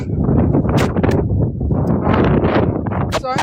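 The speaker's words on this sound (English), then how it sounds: "It's super windy." Strong gusts of wind buffet a microphone outdoors, loud rumbling bursts rising and falling in uneven waves, with a short rustle near the end.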